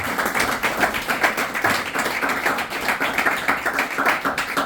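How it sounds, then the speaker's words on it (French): A church congregation claps together, a dense, steady wash of many hands with small rhythmic swells that carries on without a pause. "Applaudissez encore très fort"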